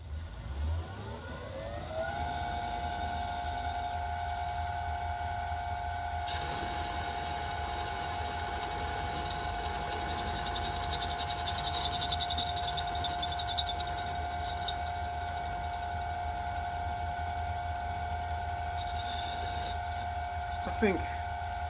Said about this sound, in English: Let's fire up the lathe and try again.